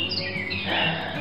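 Small birds chirp and tweet in a garden along an overgrown path, quick bright calls repeating over a soft outdoor background.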